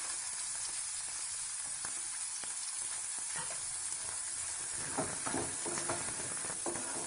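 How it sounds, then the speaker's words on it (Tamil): Onions and three green chillies sautéing in a pan for pasi payaru dosai, a soft, steady sizzle with occasional faint stirring scrapes, quiet and unbroken throughout. "இப்போ வெங்காயம் வதங்கிட்டு இருக்கும்போது"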